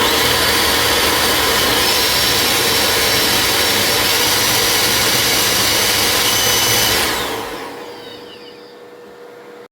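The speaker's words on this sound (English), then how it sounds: "I'm going to crank it to full throttle." A supercharger test rig at full throttle gives a loud, sustained high-pitched whine and roar, steady for about seven seconds before spinning down and fading.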